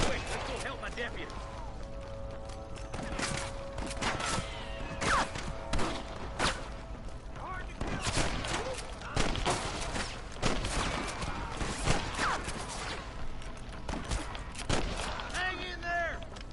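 Gunfire in the Red Dead Redemption video game during a shootout with thieves, sharp repeated shots and impacts scattered irregularly across the scene, mixed with shouting and game voices.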